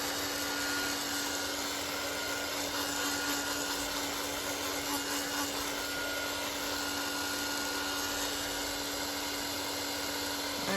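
An electric dryer blows on a painted paper background with a loud, steady whirring hum and a fixed motor tone that holds without a break throughout.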